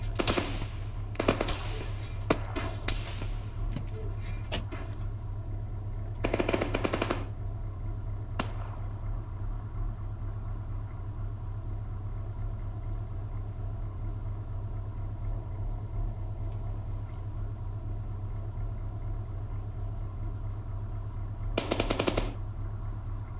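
A minigun in the Arma 3 video game rips out several short, loud bursts of rapid fire over a constant low engine drone, with single sharp cracks scattered between the bursts.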